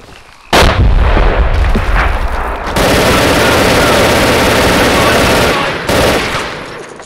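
A grenade blast and heavy gunfire in the video game MOWAS 2, a sudden loud boom followed by a sustained roar of continuous firing and rumble, close and dominant, with a second burst near the end.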